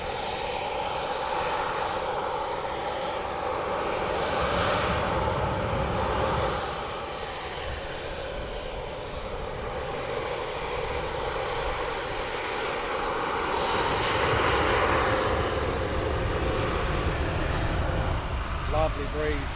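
A fixed-wing aircraft at RAF Coningsby runs its engine before departure, giving a steady, loud, close-by roar with a broadband rush that swells slightly and holds throughout.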